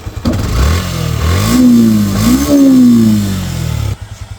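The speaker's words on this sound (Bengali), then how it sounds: "খুবই সুন্দর অথেন্টিক একটা মোটরসাইকেল যদি আপনাদেরকে সাউন্ডটা দেখাই" A Yamaha FZS version 3 motorcycle idles close by, then revs twice in rising and falling sweeps before settling back to a rough, loud idle.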